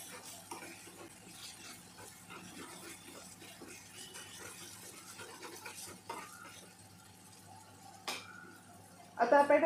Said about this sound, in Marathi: आणि हे आपण छानपैकी आता हलवून घेऊया।